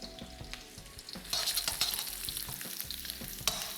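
Garlic and green chilies fry in a pan for chilli paneer, a soft sizzle broken by repeated scraping stirs of a utensil, moderately quiet and close.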